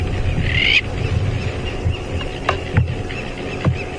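Crowned lapwings give a short, shrill call on a morning safari drive at Djuma Game Reserve, followed by faint, scattered chirps over a low engine idle.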